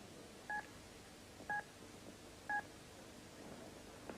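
A toy piano phone sounds three short, evenly spaced dialing tones about a second apart, each a crisp two-note beep over a quiet room background.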